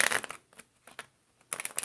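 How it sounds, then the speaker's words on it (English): Tarot cards being shuffled close by, two bursts of crisp riffling and flicking separated by a quiet gap with a few soft taps. "The Ace of Pentacles keeps turning over every time I go to shuffle."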